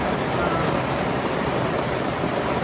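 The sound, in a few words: heavy rain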